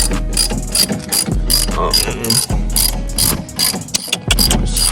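A ratchet clicks rapidly while loosening a strut nut on a Dodge Challenger Scat Pack's suspension during a lowering-spring install, loud, close, repeated bursts of pawl clicking with short pauses between strokes.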